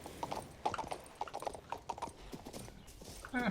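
Horse hooves clip-clop in King's Bounty 2, the mount being steered and turned around; a steady series of close, moderately loud hoofbeats runs throughout, with a brief mechanical rattle near the end.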